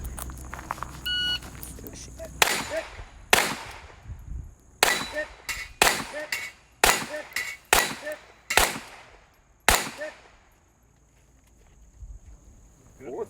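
Pistol shots at a Glock shooting competition ring out as about a dozen sharp, loud cracks in irregular bursts after a brief beep. There is quiet murmuring in between.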